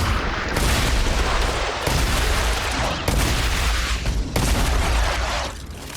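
Sustained gunfire in the sci-fi shooter StarRupture, dense loud bursts of rapid shots in several long volleys with brief pauses between them, close and alone.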